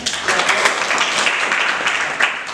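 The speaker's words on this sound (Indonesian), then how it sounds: "Tepuk tangan semuanya." Students in a vocational high school classroom clap together, a short, lively burst of many hands with a few sharper individual claps, filling the room for under three seconds.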